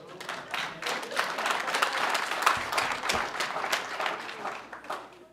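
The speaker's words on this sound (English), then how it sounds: "your clapping just went up to 80" An audience at a city council meeting claps steadily for several seconds, a dense, sustained patter of many hands at a fairly loud, even level.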